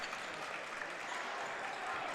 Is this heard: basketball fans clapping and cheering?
yes